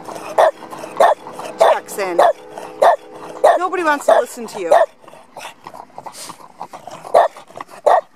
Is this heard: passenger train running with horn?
no